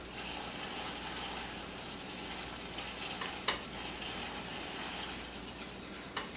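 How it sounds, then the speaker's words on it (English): Whisk stirring a sugar mixture into a warm cream mixture for butterscotch pots de creme, a steady soft scraping and swishing with faint metal clinks, continuous and close with no talk. "Now I'm going to whisk the sugar mixture into the cream mixture"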